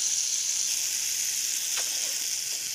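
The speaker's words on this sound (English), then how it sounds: "The best part of making frozen waffles is if you put them in really good butter." Frozen waffles sizzle in butter in a pan, a steady bright crackling hiss that holds at an even level, close and alone with no talk.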